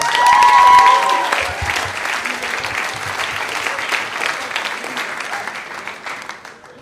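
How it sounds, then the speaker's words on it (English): Loud audience applause at a storytelling slam event, a full crowd clapping in a dense steady roar with a brief cheer at the start, gradually tapering toward the end. "Let's give a huge, huge round of applause for Phil."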